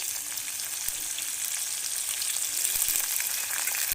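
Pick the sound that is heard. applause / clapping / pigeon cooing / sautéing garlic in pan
sautéing garlic in pan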